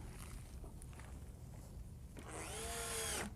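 A power drill driving screws into a wooden cradle board for a telescope mount, a steady whirring burst of about a second near the end after quiet room noise and faint shuffling.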